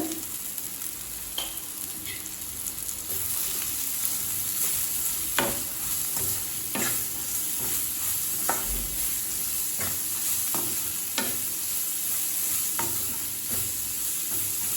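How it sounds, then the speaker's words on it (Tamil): Shredded cabbage and salt sautéed in a pan for variety rice, a continuous sizzle with repeated scrapes and taps of a spoon stirring at irregular intervals, no talking. "இப்போ சேர்த்துட்டு நல்லா வதக்கிக்கலாம்."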